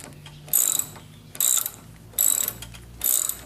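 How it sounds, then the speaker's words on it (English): A hand ratchet loosens a bolt during engine removal, giving four close, crisp bursts of rapid pawl clicking at steady intervals, with quiet pauses between strokes and no talking. "I have already prepared the ratchet, and I do believe you only have to loosen this up enough to get the string off"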